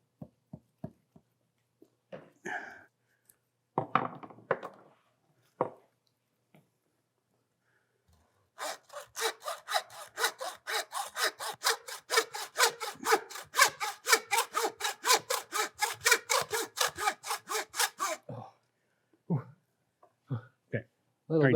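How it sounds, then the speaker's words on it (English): A hand saw cuts through a muskox carcass in long, rapid rhythmic strokes, a steady rasping run of about thirty pulls, close and loud, framed by people talking before and after. "I'd like to saw it through here, and we'll use it as a roast"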